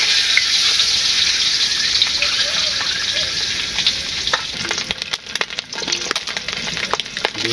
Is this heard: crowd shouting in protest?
no